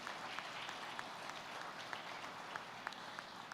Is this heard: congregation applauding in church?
yes